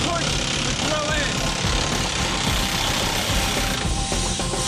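A compressed-air rock drill hammers through rock deep in a gold mine at about 3,000 blows a minute, giving a loud, dense, unbroken mechanical clatter that fills the whole stretch.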